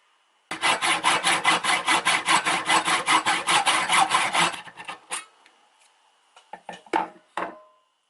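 A blade saws through the corner of an aluminium piece in quick, regular back-and-forth strokes for about four seconds, followed by a few scattered metallic clinks and taps as the cut piece comes free.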